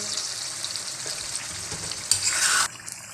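Chicken frying with spices in a pan for shaljam gosht, a close steady sizzle with occasional stirring, briefly swelling into a louder hiss before settling again.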